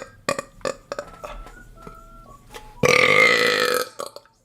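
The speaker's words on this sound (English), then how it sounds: "the burp is out, I think" A long, loud burp erupts near the end, following a few short throaty gulps and hiccup-like sounds, close and alone with no talk over it.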